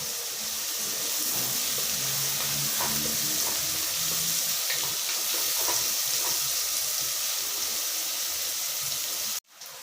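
Curry leaves frying in hot oil for a mutton head gravy give a loud, steady sizzle and crackle with no talking, cutting off abruptly just before the end.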